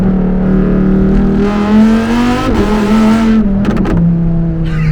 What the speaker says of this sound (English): The shifts happen so fast too when you get this beautiful pop as soon as you do it